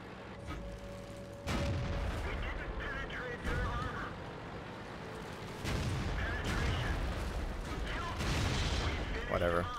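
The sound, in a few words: tank cannon fire in video game World of Tanks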